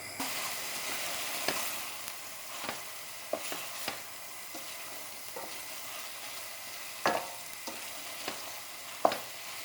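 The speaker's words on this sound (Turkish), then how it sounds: "Şimdi kapağını birazcık kapatacağım ve bir tık kavrulmasını sağlayacağım" An Antalya-style eggplant dish fries in a partly covered pan with a faint, even sizzle and a few soft knocks and scrapes now and then.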